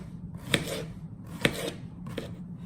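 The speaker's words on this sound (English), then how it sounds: "So we're just gonna finish slicing those up." A knife slices through vegetables for a broccoli and squash medley, giving three distinct crisp cuts spaced about a second apart against a low steady background hum.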